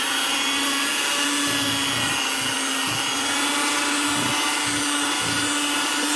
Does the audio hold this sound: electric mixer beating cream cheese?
yes